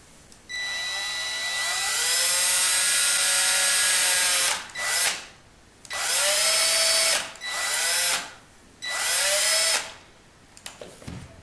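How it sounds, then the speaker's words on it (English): A power drill whines up to speed and runs in four bursts, drilling a hole through the head of a wooden organ conductor carving, each spinning up and winding down, loud and close, with short quiet gaps between. "We need to drill a hole through the head."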